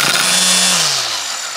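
A Greenworks GD40BCK4 40V battery string trimmer is run at low speed and bumped against the ground to feed line, giving a loud, steady electric whir whose pitch sinks as the motor winds down.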